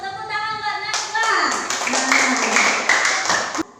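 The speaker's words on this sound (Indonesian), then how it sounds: "Tepuk tangan buat Najwa." Children in a classroom break into a short burst of hand clapping, loud and close, after a voice that carries over the start.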